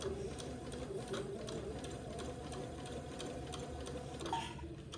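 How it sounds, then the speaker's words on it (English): A sewing machine hums steadily and close, stitching a small French seam about 3/16 inch wide in fabric for a baby raglan garment, with faint regular ticks of the needle throughout. "I'm just sewing at about 3/16 of an inch"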